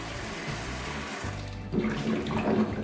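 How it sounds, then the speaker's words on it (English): Freshly harvested potatoes grown in a bucket get a quick wash in water, with a steady running and sloshing sound that swells louder and more splashy in the final second. "Right then, let's give this first pot of potatoes a wash. Quick wash."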